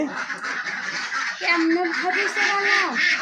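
Ducks on a duck farm quack and honk in a steady chorus, rising to louder, nearer calls in the second half, with a dense wash of flock noise throughout.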